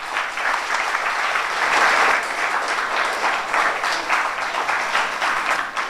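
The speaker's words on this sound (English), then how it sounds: "I want you all to give your parents a round of applause for being here" Audience at a National Scouts youth awards ceremony at City Hall applauds parents, a dense, sustained round of clapping from many hands, steady and fairly loud from start to finish.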